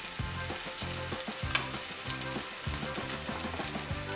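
Blackened Cajun-style catfish fries in a black iron skillet with a steady, loud crackling sizzle that runs throughout, joined by a brief sharper spatter near the middle.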